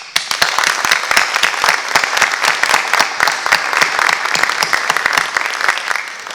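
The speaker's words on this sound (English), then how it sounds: "please join me once again in applauding all of our new Honor Society members" Audience applause at a National Honor Society induction program, loud steady clapping from a large crowd with sharp individual claps standing out, continuing throughout.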